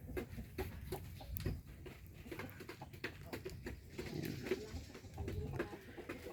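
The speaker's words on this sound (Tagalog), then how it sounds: "Yan, mga manok din yan." Chickens on a farm cluck and murmur in the distance, soft and intermittent, with faint outdoor ambience around them.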